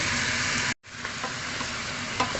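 Chicken tinola with onion and malunggay being mixed in a pot: a constant hissing simmer and stirring texture, broken by a sudden brief silent gap before the steady sound resumes.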